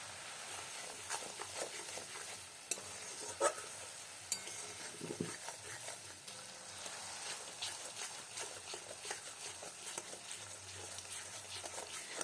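Kashmiri chili powder being stirred into a tomato masala in a pan, a faint steady scrape and patter with a low sizzle running throughout, occasional sharper clicks of the spoon against the pan.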